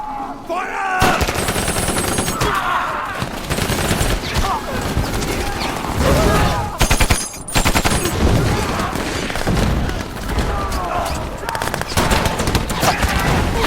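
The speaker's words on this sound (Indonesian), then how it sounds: "pasukan Soviet pun dihujani peluru dan rudal oleh tentara Jerman" Heavy WWII battle gunfire in a war film: dense bursts of machine-gun fire and rifle shots with explosions, loud and nearly continuous with brief gaps.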